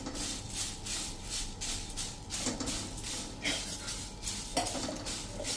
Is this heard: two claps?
no